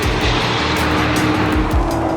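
Hypercars race on a sunny California track day, loud engine notes rising and falling sharply as cars blast past close by, with fast pitch sweeps and a gritty roar.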